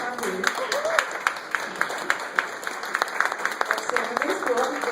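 Audience applause for a teacher at a talk, a moderate patter of clapping from a crowd with speech mixed in.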